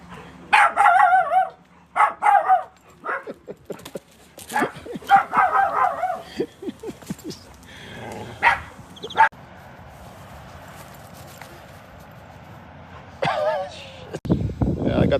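A dog at a farm barks in several sharp bursts, with whimpers and yips in between, fairly close, and a person talks at times around the barking.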